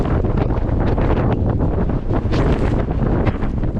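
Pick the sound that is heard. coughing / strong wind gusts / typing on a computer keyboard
strong wind gusts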